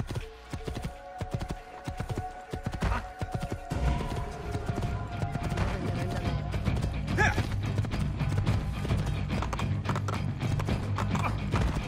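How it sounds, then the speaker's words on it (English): Horse hooves clip-clopping in the video game Assassin's Creed II, a steady rhythmic trot that carries on throughout with a brief whinny and mechanical game noises mixed in. "I'll just take my horse again since he seemed to have left."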